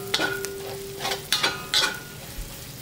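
Ginger and fermented black beans stir-fried for mapo tofu, with a low sizzle and several distinct bursts of scraping as a spatula stirs them in the pan.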